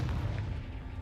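A Confringo blasting spell explodes in Hogwarts Legacy, a short deep booming blast with a rumbling low end that fades within a second.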